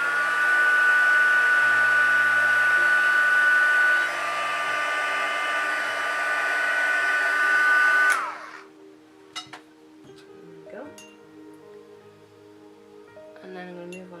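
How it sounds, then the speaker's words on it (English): A heat tool blows steadily for about eight seconds while setting paint on vinyl, a loud even whoosh that cuts off, followed by quiet handling sounds and someone talking. "so I'm going to heat set that now."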